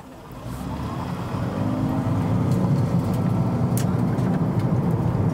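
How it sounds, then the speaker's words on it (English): Fourth-generation Toyota Prius and Honda Insight hybrids accelerating in a drag race, a steady engine and road drone heard from inside a car that swells louder as speed builds and then holds, with no talk. "We're gonna do a quick little drag race with the Insight."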